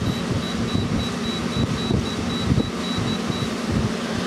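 An LG 12,000 BTU, 220-volt wall air conditioner runs in heat mode with a steady fan whoosh and broadband hum. A faint repeating high beep pattern sits above it, with no talk.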